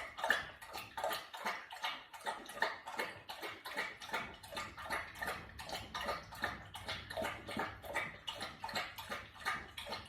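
A pet laps water in quick, steady rhythmic slurps, roughly two per second, close and fairly quiet, continuing without pause and with no talking.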